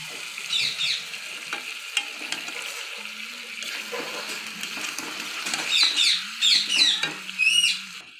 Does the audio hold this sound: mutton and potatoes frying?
yes